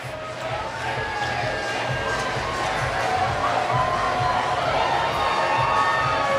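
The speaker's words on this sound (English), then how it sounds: "Wow, listen to the crowd." A large outdoor crowd cheers and shouts at a Stonewall Pride parade in Wilton Manors, Florida, a steady, dense roar with scattered whistles and shrill voices sustained throughout at close range.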